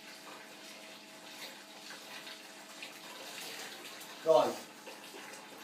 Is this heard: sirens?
no